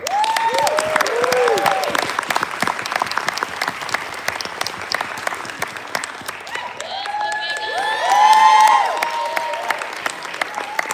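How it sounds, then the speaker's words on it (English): Audience at a homegoing ceremony gives steady applause, many hands clapping throughout, with a few cheers and voices rising near the end. "Ladies and gentlemen, please have a welcome applause."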